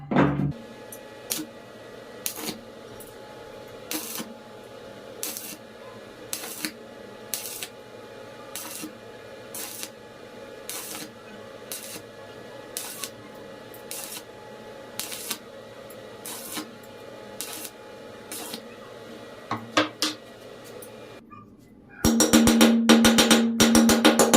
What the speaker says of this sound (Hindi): तो चलिए अभी हम लोग इसको देखते हैं ये वेल्डिंग कैसे हो रहा है।